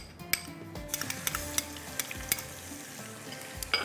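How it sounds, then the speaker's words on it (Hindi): Turmeric, ginger and garlic masala frying in hot oil with black pepper, a steady close sizzle broken by sharp clinks and scrapes of stirring against the pan, with no talking. "थोड़ा सा गरम ऑयल के अंदर ये फ्राई होगा"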